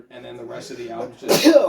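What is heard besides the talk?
sneeze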